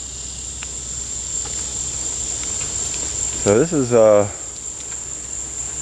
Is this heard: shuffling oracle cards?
no